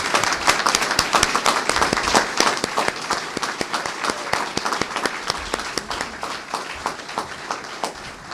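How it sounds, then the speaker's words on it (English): Audience applause for young airmen, soldiers and Marines at an outdoor Memorial Day ceremony at the Virginia War Memorial, a loud, dense round of clapping that holds steady and then thins toward the end. "let's go ahead and give a round of applause to these young airmen, soldiers, and Marines that are here with us today"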